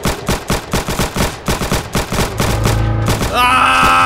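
Rapid automatic gunfire in Roblox Arsenal, loud and close, beginning as choppy bursts and running into a dense sustained stream that ends in a brighter ringing tone, with no talk.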